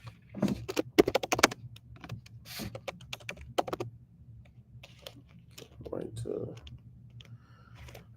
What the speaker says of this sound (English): If I can type that shit on my laptop.